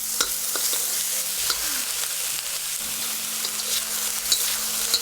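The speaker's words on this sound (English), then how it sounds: "After stir-frying the garlic and bell peppers for about 30 seconds on high, we'll add the scallions followed by all of the pork." Pork stir-fried with garlic, bell peppers and scallions in a hot wok sizzles steadily, with scraping stirs and tossing clatter throughout, close and loud with no talk.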